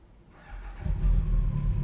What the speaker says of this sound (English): There's some people revving their engines outside.